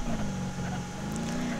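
A car engine in the driving game BeamNG Drive drones steadily at a fairly loud, close level, holding one low pitch with a slight rise toward the end.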